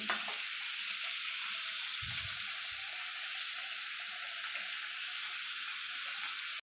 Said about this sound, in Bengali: পেঁয়াজটা নাড়াচাড়া করে নিয়েছি।